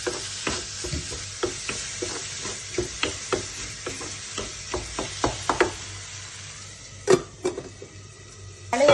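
A spoon scrapes and knocks through potatoes in a pan with salt, chili powder and turmeric, a run of regular stirring clacks over a soft sizzle, with a couple of louder knocks near the end.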